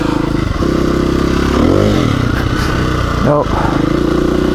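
A motorcycle held up in a wheelie on throttle alone, no clutch, drones loudly and close, its engine pitch dipping and rising in short surges; someone speaks a single brief word over it.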